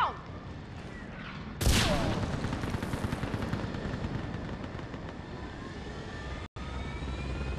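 Gunship engine in the video game Mass Effect 3, a loud sudden roar that swells into a sustained rushing drone with a gritty rumble, briefly cutting out once before resuming.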